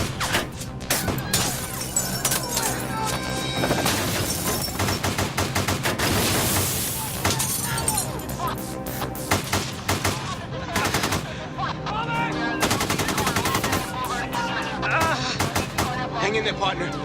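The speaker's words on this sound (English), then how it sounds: "They're just shooting hundreds of rounds." Sustained heavy gunfire during a North Hollywood bank robbery shootout on Laurel Canyon, hundreds of rounds cracking in dense rapid bursts and volleys, loud and continuous with voices heard in places.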